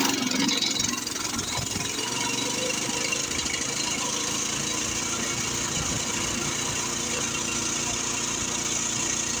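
A Coleman minibike engine idles on half choke outdoors in snow, a steady mid-pitched chugging hum with faint knocking, close and continuous with no talk.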